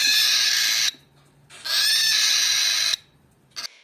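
Two long, harsh, high-pitched screams from a distressed cockatiel with a short pause between, loud and close, followed by a brief sharp squawk.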